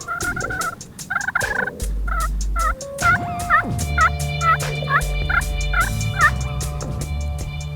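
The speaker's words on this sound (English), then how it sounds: "where Gina had heard that bird that morning gobbling his head off" A wild turkey gobbles again and again during a late-season hunt, loud bursts in a steady series with a low hum beneath.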